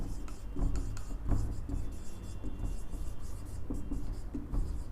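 Chalk scratching and tapping on a board during a digital communication lecture, with steady strokes and taps at moderate level and a faint murmur underneath.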